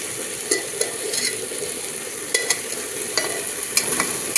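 Egg and potato curry fries and gets stirred in a pan, a steady low sizzle broken by sharp scrapes and clinks of a utensil at irregular moments, close up and with no voices.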